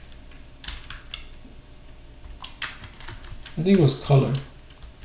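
Keystrokes on a computer keyboard as commands are entered in a code editor, a few light scattered clicks under a voice talking nearby.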